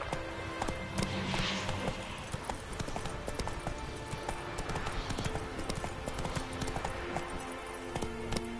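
Horse hooves gallop steadily in The Witcher 3, a brisk, continuous clip-clop rhythm that stays fairly close throughout, with a brief gust of wind or movement noise early on.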